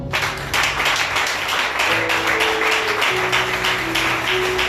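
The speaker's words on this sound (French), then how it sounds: "Est-ce que tu peux acclamer pour toi-même?" A church congregation applauds during a French sermon, with dense, sustained clapping over held keyboard notes from start to finish.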